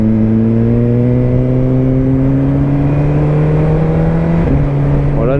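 A Suzuki GSX-R 1000 sport motorcycle accelerates hard with a steady rising engine roar, then a sharp quickshifter gear change cuts the pitch near the end before it climbs again. The sound is loud and close, with no talking.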